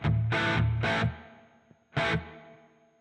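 A guitar amp effect played through an IK Multimedia Tonex pedal with spring reverb switched on. Three strong chord bursts ring out and leave a washy, decaying reverb tail after each one, with a soft tap in the quiet gap.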